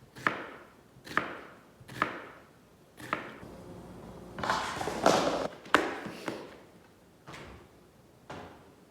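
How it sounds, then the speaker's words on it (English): A knife chops an onion on a cutting board with sharp, evenly spaced thuds about once a second, broken by a denser scraping flurry midway before the steady chops return. "Just chop an onion."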